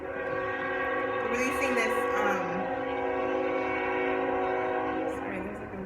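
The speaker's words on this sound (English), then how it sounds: "sorry, there's like a loud train" A loud train passes close by, its horn blaring in a sustained multi-tone blast over a rumbling roll, while someone speaks briefly underneath.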